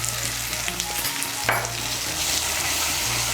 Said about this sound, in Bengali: গুঁড়ো মশলাটাকে মিশিয়ে নেব